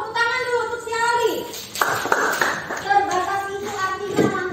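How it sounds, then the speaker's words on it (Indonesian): A classroom of students claps for a classmate in a short burst of hand claps, close and fairly loud, between stretches of a teacher talking. "Tepuk tangan dulu untuk si Ali."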